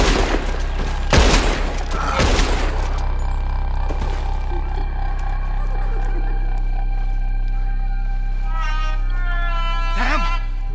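Gunfire breaks out in Red Dead Redemption 2 as ropes are shot at, two heavy booming shots followed by a fainter one, then a lingering tonal drone with swooping game sounds and no voices.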